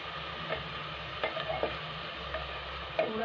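Onions fry in a pan for tomato pulao, giving a soft continuous sizzle with a few light clicks and taps from the utensil, close and fairly quiet, with no speech.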